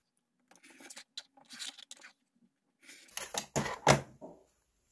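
Quilt fabric pieces cut down the middle with scissors, producing short bursts of close crisp snipping and scraping, quieter at first, then a louder run of cuts toward the end.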